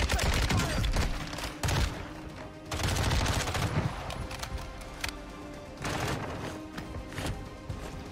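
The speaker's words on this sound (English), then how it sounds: "So now they've got the indicator of gunshots in that direction" Bursts of rapid gunfire crackle repeatedly in the video game Warzone 2, mixing single shots and automatic volleys at a steady, fairly loud level.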